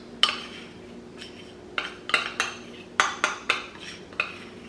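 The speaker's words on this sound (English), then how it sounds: "Peanut butter in there, and we'll stir that around" A spoon clinks and scrapes against a pot while peanut butter is stirred into a hot cocoa mixture, a quick series of close, bright metallic taps with short pauses between them.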